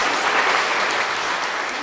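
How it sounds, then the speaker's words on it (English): Brief studio audience applause on a lounge-style talk show, a loud, close burst of many hands clapping steadily for about two seconds, with no talk over it. "just brief applause there for that."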